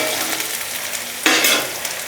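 Onions sauté in a pan on a medium flame for tamarind rice, giving a steady close sizzle with one brief, louder stirring scrape partway through.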